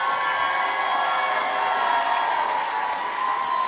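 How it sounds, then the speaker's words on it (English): A crowd at a 2021 performing-arts conservatory graduation applauds and cheers the graduating class, a continuous, fairly loud wash of clapping mixed with sustained cheering voices. "One more big round of applause for our graduating class."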